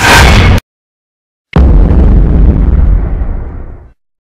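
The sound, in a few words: homemade compressed-air cannon made from fire extinguisher firing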